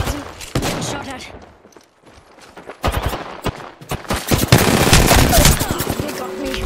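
Rapid gunfire from the Apex Legends video game cracks in sharp automatic bursts, sparse at first, then dense and sustained, with a player's voice talking over the shooting.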